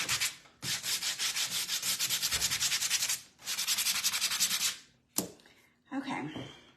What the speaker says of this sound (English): I think I'm going to sand this a little bit too. Just smooth it out.